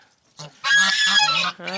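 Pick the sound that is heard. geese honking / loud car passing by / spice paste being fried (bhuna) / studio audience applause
geese honking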